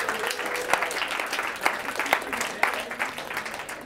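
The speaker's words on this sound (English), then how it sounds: "We'll give them a round of applause." An audience applauds student trustees Lexi and Sydney, a moderate burst of clapping with a few sharper individual claps standing out, heard at some distance for a few seconds.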